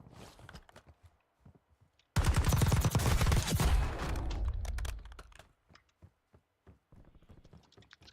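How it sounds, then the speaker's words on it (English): Gunfire in Call of Duty Warzone: a sudden, loud burst of rapid automatic shots lasting about three seconds, set between quieter scattered clicks and footsteps. "Except for that guy shooting right at me."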